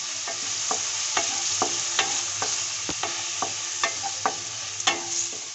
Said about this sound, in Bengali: এখন আমি মশলাগুলো ভালোভাবে ভেজে নেব।